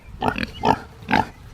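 A pig gives three short, close grunts spaced about half a second apart, each a throaty snort with no other sounds around it.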